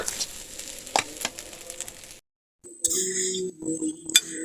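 Cooked jengkol fried rice being scooped from a frying pan: a sizzling, scraping stretch, a brief gap, then metallic utensil clinks and scrapes against the pan, close and fairly loud.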